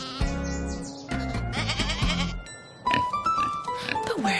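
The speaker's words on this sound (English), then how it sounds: "The goat." A goat on a farm bleats loudly and close by in several wavering calls, with a few other animal cries mixed in, standing alone without any talk over it.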